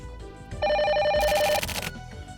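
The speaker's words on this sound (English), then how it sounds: "it's gonna keep ringing until I freaking pick it up" A telephone rings in the video game The Silver Case, an electronic warbling trill that repeats as a loud steady burst over quiet background music, with no talking.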